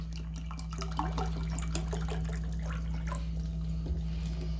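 Room-temperature mineral water pours into a glass before yeast and sugar are added for Neapolitan pizza dough, a steady splashing trickle that lasts several seconds over a low hum, with no talking.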